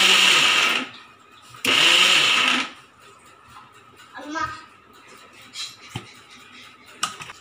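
A mixer grinder pulsing millet, peanuts and jaggery into powder, two loud whirring bursts of about a second each, separated by quiet pauses, then softer rattling and handling sounds with faint voices.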